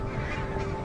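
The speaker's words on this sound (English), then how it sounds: "Every winter, barnacled geese arrive right on cue at the same Scottish river." Barnacle geese call with honking, cawing notes over a steady background hum, loud and close, on a Scottish river in winter.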